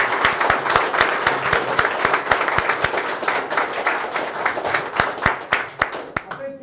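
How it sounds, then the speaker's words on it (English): An audience at a book launch claps in a sustained round of applause, with dense overlapping claps and some distinct louder hand slaps, before the clapping thins out and stops at the end. "A big round of applause for the compelling Malcolm Roberts."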